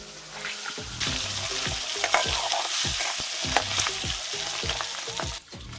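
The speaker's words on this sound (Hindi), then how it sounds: "ये रहा दोस्तों रिया का मम्मी देखिए अंडा फ्राई कर रहा है दोस्तों" Eggs frying in a pan in a village kitchen, a continuous bright sizzle broken by repeated scraping strokes of a spatula, close and with no talk.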